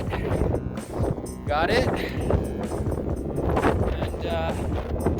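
Strong wind gusts of up to 60 mph roar across the Mount Monroe and Mount Eisenhower summits in New Hampshire's White Mountains, a constant loud buffeting rush over the microphone while people talk.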